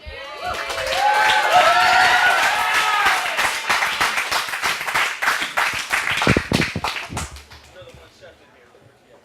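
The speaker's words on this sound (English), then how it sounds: "You can still do the sounds and clap and yell." Poetry slam audience at a beer slam clapping in a dense burst with some whooping voices, the applause thinning into scattered claps and fading toward the end.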